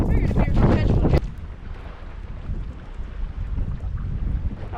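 Wind gusts across Norfork Lake during bass fishing, a steady rough rushing buffet against the microphone after a burst of close talk at the start, then continuing on its own.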